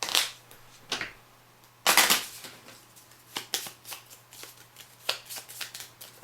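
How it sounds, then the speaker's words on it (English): Playing cards shuffled for a Legendary Encounters Predator deck-building board game, a series of crisp riffling bursts and snaps close by, with loud flurries near the start and again at about two seconds, then lighter clicks. "So 2, we'll shuffle him up."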